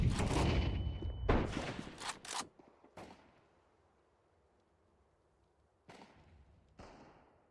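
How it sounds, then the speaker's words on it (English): Counter-Strike 2 match audio: a flashbang bang and a burst of rapid gunfire crackle loudly in the first seconds, then fade to near-silence before a few more distant shots. "Throwing fire. Throwing flashbang. Deploying flashbang."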